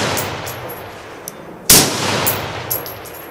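A single sharp rifle shot at a long-range target, loud and close, cracking out midway through steady wind noise and fading into a brief rumble.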